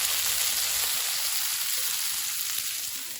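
Tomatoes blister in a pan over low heat, giving off a steady, close hiss of sizzling with a faint crackle throughout.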